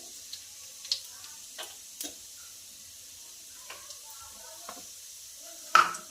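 Cumin seeds crackle in hot oil for an Indian dal, a quiet sizzle punctuated by sparse sharp ticks and pops, with one louder pop near the end.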